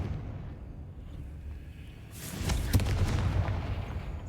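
A Confringo fire spell bursting in the Hogwarts Legacy video game: a rumbling, fiery explosion that swells in after a low steady drone, with a sharp crackling peak and a sustained roar.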